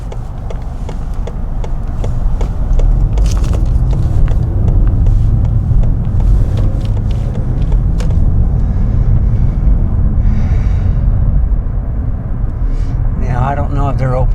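Steady low road rumble from passing cars near a one-lane construction zone where columns are being built, continuous and fairly loud throughout, with a few higher tonal whines near the end.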